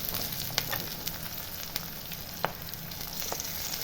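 Garlic, onion, curry leaves and tomato fry in a pan for a Tamil fish kurma, giving a steady close sizzle with occasional sharper pops and crackles, no voices over it.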